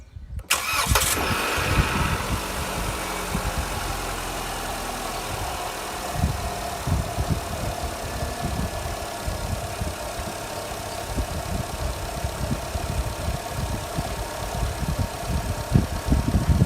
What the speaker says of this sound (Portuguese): agora o carro ligado